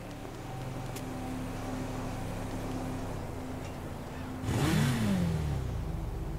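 Motorbike in a GTA roleplay game, an engine idling steadily before a sharp rev that rises and then falls away, with no talk over it.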